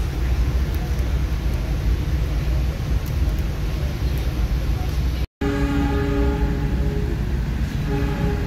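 The Pangandaran panoramic passenger train travels from Bandung toward Banjar, its loud steady rumble and rail clatter heard from on board. A brief cut interrupts the noise, then a horn-like tonal sound joins the running noise.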